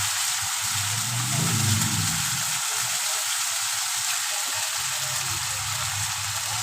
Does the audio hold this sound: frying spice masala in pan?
yes